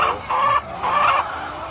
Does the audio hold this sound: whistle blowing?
no